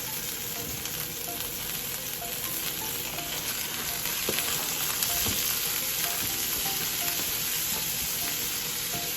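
Minced onions and peppers fry in a reused pan, giving a steady, even sizzle that stays loud and close throughout with a few faint clinks.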